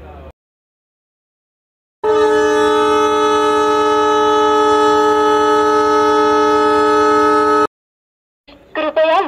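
A Patna Vasco Superfast Express train sounds a loud, steady horn at a station platform, one long held multi-tone blast of about five seconds, with brief noise before and after.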